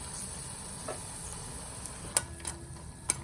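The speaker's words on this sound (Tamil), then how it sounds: "இதே எண்ணெயில் இந்த சுண்டைக்காயை வறுத்துட்டு சுண்டைக்காய் கொஞ்சம் நல்லா வறுவடணும்" Sundakkai turkey berries fry in oil left over from frying appalam, a low, steady, faint sizzle with a few light clinks or stirring taps toward the end, with no talking.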